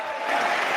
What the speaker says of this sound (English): Hit So- the applause button.